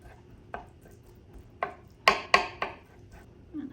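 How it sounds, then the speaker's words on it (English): Knife chopping herring on a cutting board for herring tartare: a handful of sharp, separate chops spaced irregularly, two louder strikes close together near the middle, heard near and alone. "And then you kind of chop them up a little bit more."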